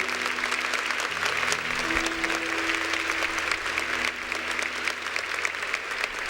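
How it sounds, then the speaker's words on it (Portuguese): Congregation applauding in a Catholic church during Mass, a sustained, loud wash of many hands clapping together with a faint steady tone beneath it. "Aplauda para valer."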